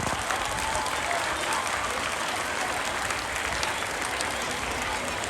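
A crowd applauds steadily and loudly, with dense, continuous clapping throughout.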